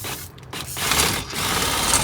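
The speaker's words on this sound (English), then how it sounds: "We'll go ahead and put the jack up and down" A manual RV stabilizer scissor jack cranked steadily, giving a continuous mechanical grinding and ratcheting with small clicks, close by and fairly loud, no voices.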